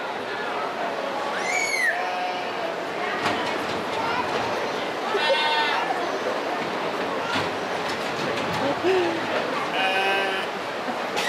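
Goats bleating repeatedly at a livestock show class, several wavering calls scattered over a noisy arena background while an announcer talks.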